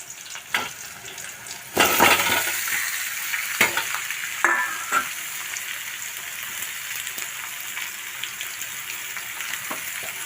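Potatoes sizzle and fry in a pan with green chillies and leaves, a continuous hiss broken by scraping stirs and clatters, close and alone with no talk.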